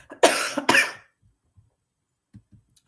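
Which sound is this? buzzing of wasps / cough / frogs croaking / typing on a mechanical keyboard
cough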